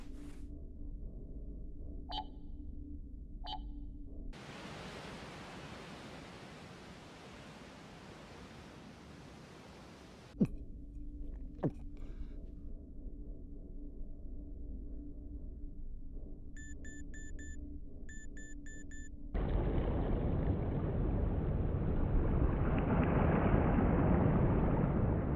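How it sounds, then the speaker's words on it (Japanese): Several graviton engines of Nagara-class light cruisers pass over the sea surface above a submarine in the anime Arpeggio of Blue Steel, heard as steady broadband rumbling hiss with low droning hum, sonar-like pings midway, and a louder, brighter rush near the end. "海上に複数の重力子エンジン音。"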